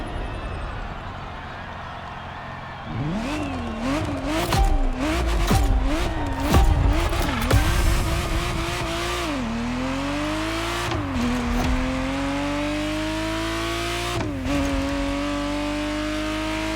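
Ferrari Testarossa supercar engine revving as it drives, a loud wavering engine note that climbs and drops through gear changes, with a steady whine and road roar, sustained for many seconds.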